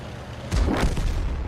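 An artillery gun firing in a tank video game, a single deep booming shot that rolls on briefly after the blast, loud and with no talking over it.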